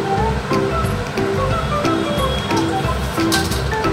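Dahi vada batter frying in oil in a kadhai, a continuous close sizzle and bubbling that holds steady, with faint tonal notes running beneath it.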